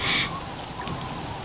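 Steady rain falling, a dense even hiss filling the scene at moderate loudness with a slightly brighter patch at the start, no voices present.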